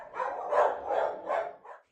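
A dog barks repeatedly at a no-kill animal shelter in Przemysl, Poland, four close, loud barks in quick rhythm ending in a shorter yip, with no other voices.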